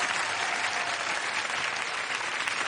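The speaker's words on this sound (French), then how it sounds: "Mesdames et messieurs, on peut les applaudir très très fort." Studio audience at a French television hypnosis show breaking into loud, sustained applause, a thick, even wash of clapping hands that holds steady throughout.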